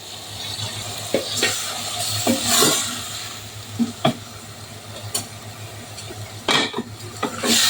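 Small mola fish frying in a pan, with a constant sizzle broken by several loud clatters and scrapes of a utensil against the pan, close and fairly loud.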